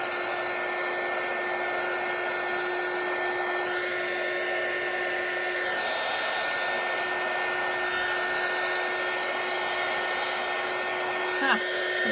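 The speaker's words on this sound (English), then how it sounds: "I'm just going to dry this off with my heat gun." A heat gun blows steadily over freshly made faux labels, a continuous close whine and airy rush that holds level throughout, with a small clunk near the end.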